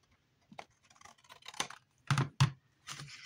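Scissors snipping through paper to cut out a pocket shape, a few short crisp cuts and rustles close by in an otherwise quiet space.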